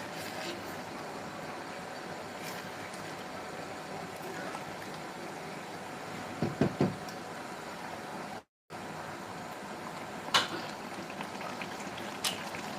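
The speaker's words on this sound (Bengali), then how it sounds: "একটু চাপা দিচ্ছি, একটু ফুটে উঠুক, মশলাগুলো সব ওটার মধ্যে তাহলে চলে যাবে।" Paneer kadipatta curry bubbles in a covered pan, a steady, moderately quiet simmering hiss with a few sharper pops and a brief dropout partway through.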